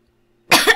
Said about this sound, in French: Respect, je te tousse dessus.